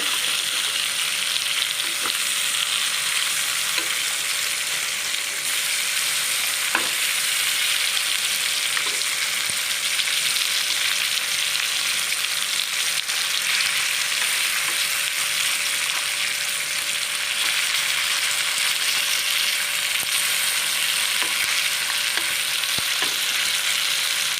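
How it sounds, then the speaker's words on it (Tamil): Fish pakoda deep-frying in hot oil, a constant loud sizzle with occasional light clicks as the pieces are turned over, close up and with no one speaking. "இப்போ நாம் இங்கே மீன் எல்லாத்தையும் திருப்பி போட்டுக்கலாம்."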